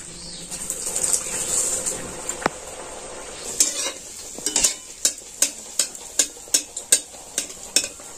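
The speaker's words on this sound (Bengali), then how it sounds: "তেলটা একটু গরম হোক, তেলটা যত ভালো গরম হবে লুচিটা কিন্তু একদম তাড়াতাড়ি ফুলে যাবে। এটা ভালো মতো গরম হয়ে গেছে, এবার আমি লুচিটা ভেজে নিচ্ছি।" Luchi puffed bread frying in well-heated oil, a bubbling sizzle that turns into a regular run of about a dozen sharp, evenly spaced spatting bursts as the dough puffs, close and with no voices.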